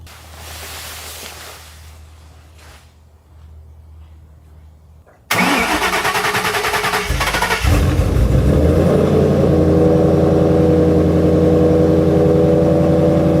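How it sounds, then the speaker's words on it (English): A 2011 Shelby Mustang running on E85 cranks and fires up with a sudden loud roar, then settles into a steady, deep, close idle that swells slightly after a brief rev. "So I've been letting the Shelby idle for a little bit now."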